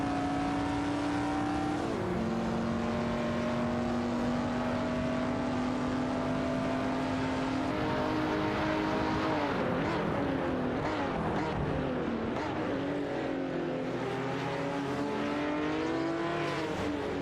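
Race cars in a video game, including a Porsche 904 and a Jaguar E-Type lightweight, droning loudly as engines hold steady tones, then rise and fall in pitch as several cars pass close by, with no voices.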